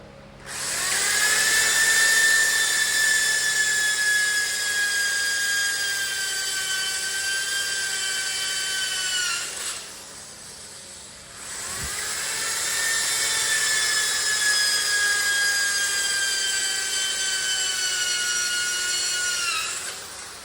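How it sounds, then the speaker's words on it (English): A power drill bores spot-weld holes in the metal of a 1988 Oldsmobile Cutlass bench seat, giving two long, steady, high whining runs of about ten seconds each with a short pause between, loud and close with no talking. "I done went ahead and drilled out all my holes that need to be spot welded"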